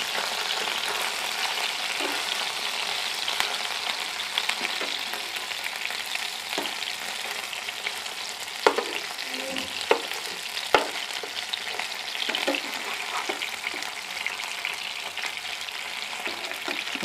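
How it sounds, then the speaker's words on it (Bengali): Ribbonfish (knife fish) pieces fry in hot oil, a constant close sizzle with occasional sharp ticks and clinks of stirring, no talking over it. "মাছগুলো ভাজা হয়ে গেছে"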